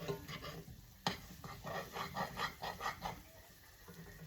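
Balsamic vinegar bubbles in a pan beside seared lamb chops, a soft sizzle broken by a sharp clink and a run of rhythmic stirring scrapes, close but fairly quiet.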